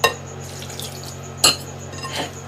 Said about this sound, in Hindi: इसको भी अच्छी तरीके से मिक्स कर लेंगे और एक स्मूथ सा बैटर बना लेंगे।